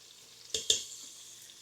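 Continuous hiss of lamb frying in a multicooker pot, broken by two quick clinks of a utensil stirring against the pan; no voices.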